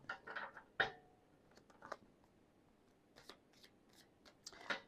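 A tarot deck is cut and shuffled by hand, giving soft papery riffles and taps in a few bursts, close and fairly quiet, with no talking.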